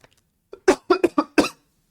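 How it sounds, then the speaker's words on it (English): A person coughs hard into a microphone during a tabletop game session, a quick burst of four or five close, loud coughs after a brief throat sound, then silence. "Sorry about coughing into the mic."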